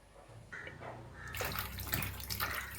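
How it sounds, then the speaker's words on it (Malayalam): Chopped breadfruit pieces are washed in a kitchen: water splashes and runs steadily, growing louder partway through, with sloshing and dripping close by. "അരിഞ്ഞെടുത്ത കടച്ചക്ക കഴുകി കരത്തിലേക്ക് ഇടാം"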